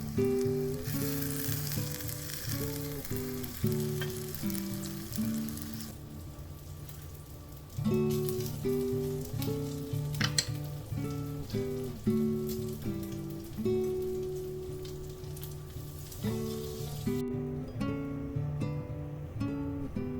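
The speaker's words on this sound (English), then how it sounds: "we're going to flip the zucchini fritters. And then we're just going to keep on cooking until they're all done" Zucchini fritters fry in a pan with a fine, rain-like crackling sizzle that continues for a long stretch, quiet and steady beneath a melodic music track.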